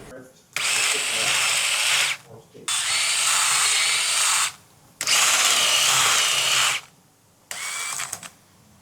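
Power tool honing the valve guides in a Chevy 350 cylinder head, running in four long bursts of roughly one to two seconds each with short pauses between, loud and close.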